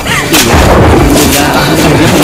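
Deep thunder rolls loud and close for about two seconds, a heavy continuous rumble outdoors as rain approaches, with no voices over it.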